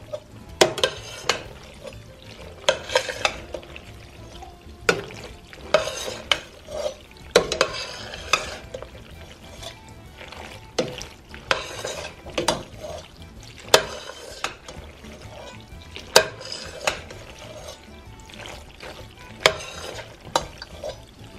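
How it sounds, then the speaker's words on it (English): Pizza noodles with sauce, red pepper, mushrooms and olives stirred together in a pan, a close run of wet scrapes and spoon knocks repeating every second or two over a faint sizzle, with no talking. "now we're gonna mix all of this together"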